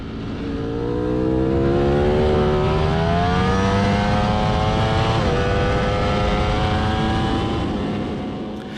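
A 2020 Ducati Panigale V4 S superbike on a Bahrain race track accelerates hard out of a corner, its engine note climbing steadily and loudly with a brief shift mid-way, heard alone.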